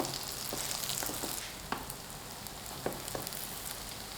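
Leek-filled flatbread pancakes go into a preheated pan brushed with a little oil, making a faint, steady sizzle broken by a few soft clicks and taps of placement, with no talking.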